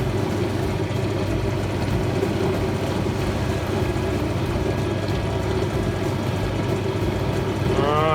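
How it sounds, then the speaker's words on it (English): A wood lathe running steadily while a turned Christmas tree piece is polished on it, a continuous low motor hum and whir, close and even throughout. "You can see why you leave it on the lathe for polishing, because it saves a lot of elbow grease."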